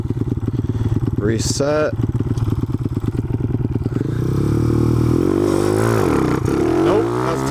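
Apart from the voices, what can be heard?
Honda CT70 minibike accelerating on quarter mile run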